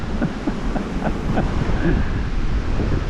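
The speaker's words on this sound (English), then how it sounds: "a very strong wind which is blowing lots of big branches in the water" Strong wind gusting over water beside a fishing spot, a steady loud broadband rush with buffeting on the microphone and a faint lapping of waves throughout.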